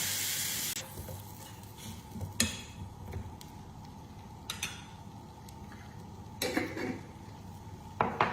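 Pork and shallots stir-frying in a pan, a steady close sizzle with occasional sharp clinks and scrapes of a utensil against the pan, no voices.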